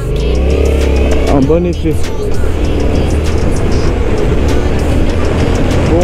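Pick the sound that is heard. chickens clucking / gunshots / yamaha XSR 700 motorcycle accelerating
yamaha XSR 700 motorcycle accelerating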